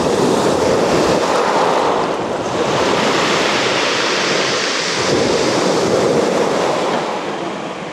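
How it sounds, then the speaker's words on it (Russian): Rough sea surf rolls onto a beach at a seaside resort in September, a loud continuous roar of breaking waves with gusts of wind buffeting the microphone. "Море начинает волноваться."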